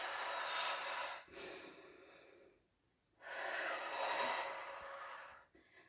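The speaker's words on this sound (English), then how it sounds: "Inhale, exhale." Deep breaths during a Pilates exercise: close, airy inhales and exhales with a brief pause between them, slightly nasal and snort-like at the edges.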